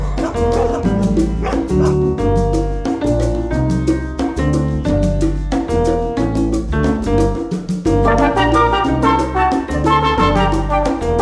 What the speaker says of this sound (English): there are lots of dogs out this morning